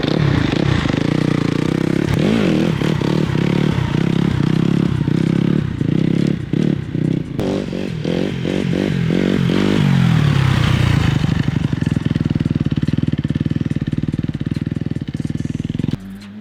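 A 2025 Kawasaki KX250 dirt bike ridden on a motocross track, engine revving hard and rising and falling through gear changes, loud and close with clattering at times.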